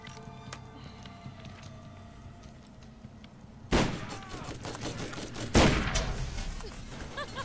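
Bursts of turret gunfire in the Borderlands video game, two loud sharp volleys midway through over a steady backdrop of game noise and scattered smaller shots.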